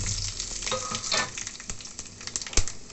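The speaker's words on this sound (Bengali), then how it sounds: "রসুন কুচিয়ে রেখেছিলাম ফোড়নে দিয়ে দিলাম" Dry chilli, black cumin and chopped garlic sizzling in hot oil, a steady close crackle and hiss with scattered sharper pops and a stirring scrape near the end.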